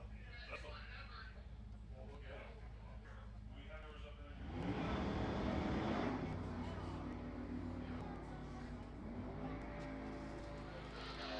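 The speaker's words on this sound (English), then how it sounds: "Both cars away on the green." Super Street drag race cars launching side by side at an NHRA divisional final, a loud engine roar swelling suddenly midway and staying heavy, with an announcer talking throughout.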